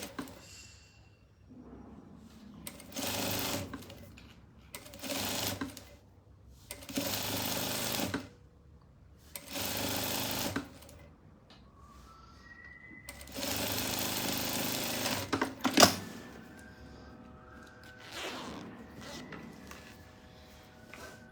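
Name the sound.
sewing machine stitching a patchwork zipper pouch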